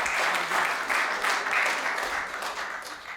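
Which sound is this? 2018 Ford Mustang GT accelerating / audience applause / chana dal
audience applause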